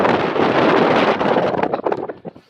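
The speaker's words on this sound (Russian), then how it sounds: "О, ветерок, да? Конечно. Сильный ветерок." Strong wind buffeting a microphone high on a Ferris wheel over Yevpatoria, Crimese seaside, a loud, rough continuous roar that gusts and then drops away toward the end.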